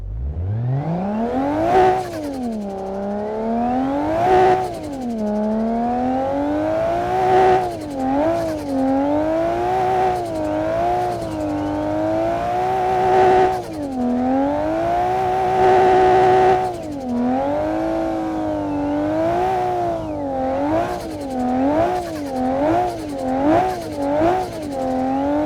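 A modded car engine in the racing game Assetto Corsa revs and climbs through gears repeatedly, loud rising and falling tones with quick shift breaks, heard alone.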